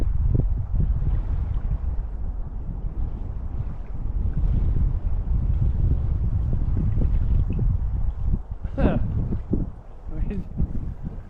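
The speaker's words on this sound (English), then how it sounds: "the wind's blowing, the wind's gusting, and it's shifting quite a bit here" Gusting wind by a small river buffets the microphone with a heavy, continuous low roar that rises and falls over several seconds, close and loud throughout.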